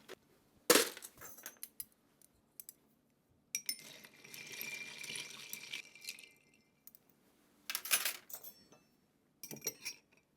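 Ice clinking and rattling in a glass as a blended Chivas Scotch cocktail is stirred, in several short bursts with quiet gaps between, close and fairly soft.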